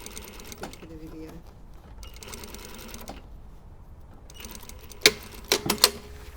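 A sewing machine understitching a facing cut in lining fabric runs in a few short bursts, with a couple of sharper clicks near the end, under quiet talk.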